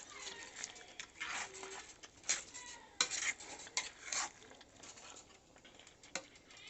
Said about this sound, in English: Mix the vegetable with the soup and we will be all set.